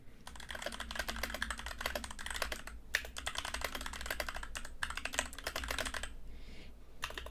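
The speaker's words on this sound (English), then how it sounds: "Oh, I love the tickly chocolate sounds of my keyboard." A computer keyboard clatters with rapid, dense typing, bursts of clicking keys broken by short pauses, close and fairly quiet, with no talking.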